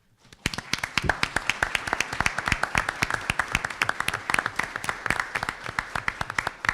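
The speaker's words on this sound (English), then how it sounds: "Amanda, would you just please stand up so we can give you a round of applause?" A round of applause for Amanda at a school board of education meeting: a small group claps with distinct, sharp individual claps in a brisk, fairly even rhythm, steady and close after a quiet start.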